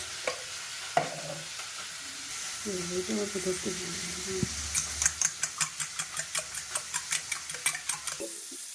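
Fish heads frying in hot oil in a pan, a steady sizzle with a rapid run of regular scraping stirs in the second half, close up, with a brief voice early on.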